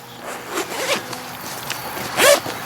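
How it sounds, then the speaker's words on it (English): Zipper on a Hazard 4 bandoleer pouch being run shut, several short close ratcheting zips in quick succession with a louder final pull near the end, nobody talking. "Zip that guy up for a sec."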